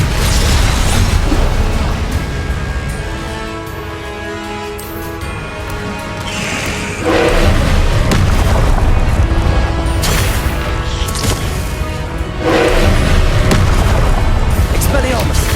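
Confringo blasting-spell explosions in Hogwarts Legacy combat: heavy booming blasts with low rumble, several loud bursts spaced a few seconds apart over a continuous battle din.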